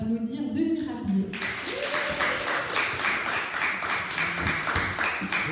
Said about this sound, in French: merci d'applaudir Denis Rabier.